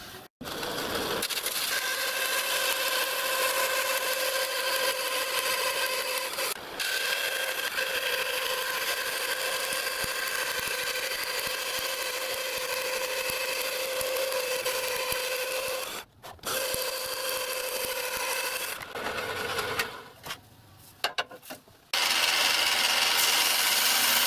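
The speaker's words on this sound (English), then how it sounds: "I'll get this Perspex cut" A power tool cuts through a Perspex sheet with a loud, continuous, even rasping whine that holds steady for most of the time, then breaks up into short stops and restarts near the end.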